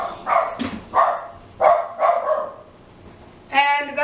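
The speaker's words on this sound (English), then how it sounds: "And that's my dog" A pet dog barks in short bursts at home during cooking, with a few sharp yaps spread over several seconds and a higher whining or yelping call near the end, moderately close.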